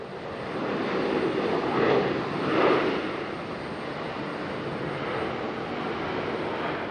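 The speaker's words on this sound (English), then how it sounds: "Only reverse thrust on one side. They're not doing both sides." A Lufthansa airliner lands at Raleigh-Durham International with reverse thrust on only one engine, giving a steady, broad jet roar that swells twice early on, then holds a loud, even rumble with no talking.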